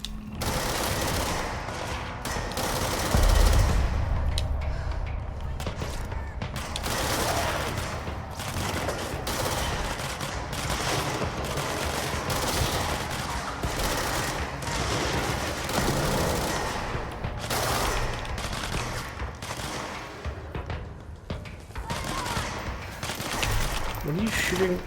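Sustained bursts of automatic gunfire from the video game Control rattle on for the whole stretch, a dense continuous barrage with a heavier thump early on and a voice talking faintly underneath.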